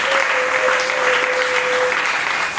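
A church congregation applauds in praise, sustained, dense clapping from many hands filling the room at a steady loudness, with a faint held tone underneath.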